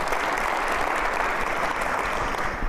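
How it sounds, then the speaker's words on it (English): An audience at a school district's State of the District event claps together, a dense and steady burst of applause from a large crowd that fills the room throughout. "So can we just give him a round of applause?"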